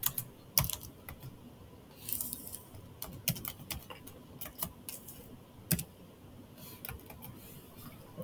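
Quick bursts of keystrokes on a computer keyboard as a password is entered, soft irregular clicks in short runs with brief pauses, close and fairly quiet with no talking.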